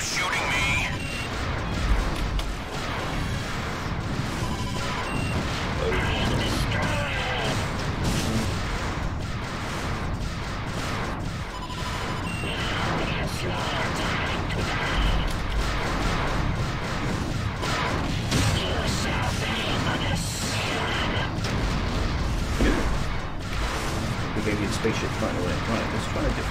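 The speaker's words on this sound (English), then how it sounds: "Those turrets keep shooting me." Space station turrets firing on the player's ship in Wing Commander Prophecy, a dense run of repeated blasts, impacts and crashes across a constant game soundtrack, with someone commenting over it.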